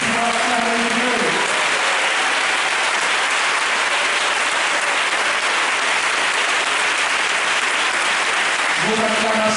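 A congregation at a Mass for the sick applauds and cheers, a loud, dense, sustained wash of clapping and crowd noise filling the whole stretch, with a voice briefly heard at the start and end.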